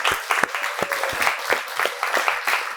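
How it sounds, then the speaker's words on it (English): A big round of applause from an audience at a Daf Yomi Torah class, irregular claps steady and fairly close throughout, with no one talking over it. "I think Yosef needs a big round of applause."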